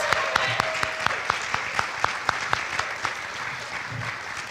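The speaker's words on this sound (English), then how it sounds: "Round of applause." Audience applause in a high school theatre showcase as department alumni stand, steady crowd clapping with a few sharp, distinct nearby claps standing out over the wash throughout.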